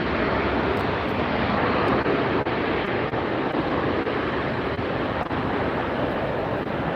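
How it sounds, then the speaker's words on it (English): Loud, continuous jet roar from an Alaska Air airliner at Los Angeles International, a dense wash of engine noise that stays steady throughout, alone without voices. "Looks like an Alaska Air flight."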